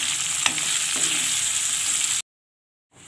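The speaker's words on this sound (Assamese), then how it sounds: "এতিয়া আমি শুকান মাছখিনি দি অকণমান ভাজি ল'ম।" Dry fish fry in a pan with a loud, steady sizzle and crackle, then the sound cuts to silence and faintly resumes near the end.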